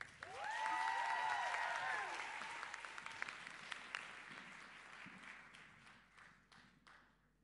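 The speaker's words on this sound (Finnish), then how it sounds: "Antakaa hän aplodit Almalle." Audience applause for singer Alma Kukkonen at a song club concert, with cheering voices at the start, then clapping that thins out and fades to a few final claps.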